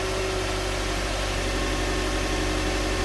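A car engine idles steadily during a transmission flush, a constant low hum with no revving or voices.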